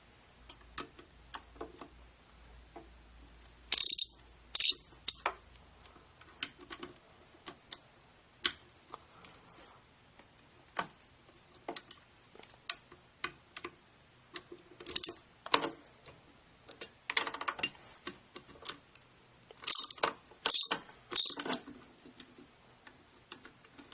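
A ratchet backs out the bolts holding the motor to the pump body of a Grundfos UPS 200 series circulator pump, giving sparse, fairly quiet ticking clicks with a few louder bursts between pauses.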